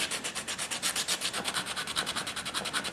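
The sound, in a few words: sanding detailed wood furniture surface with stiff 60 grit sandpaper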